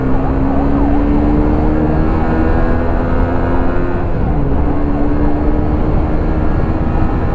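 An ambulance siren wails continuously in a steady rising and falling pattern, loud and close, over constant road and engine noise, with no talking.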